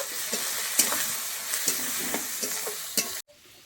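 Onion and drumstick flowers frying in a pan give a steady close sizzle with repeated stirring scrapes, then the sound cuts off sharply near the end.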